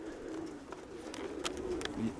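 Mykolaiv pigeons coo softly in the background, a few low faint calls over a quiet ambient hum, with no talking.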